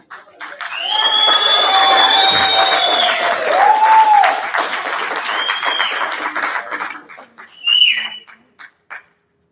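Clapping rises from the audience at a school district board meeting, scattered hand claps mixed with loud whistles and cheering voices, swelling, then tapering off into a few last claps.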